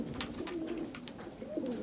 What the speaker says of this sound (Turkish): Çok kuş var ya.